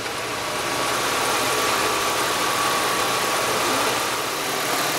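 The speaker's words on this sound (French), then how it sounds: "Donc le moteur tourne," A car engine idles steadily at close range with the hood open, a constant even hum and hiss with no talking.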